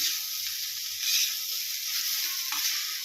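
Chicken fried rice is stir-fried in a pan restaurant-style, a steady bright sizzle running throughout with occasional soft scrapes and clinks of the spatula, close and continuous, with no talking.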